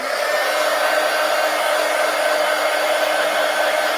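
A hair dryer blowing steadily on an art journal page, a loud, continuous close-up whoosh that holds unbroken for the whole stretch with no voices.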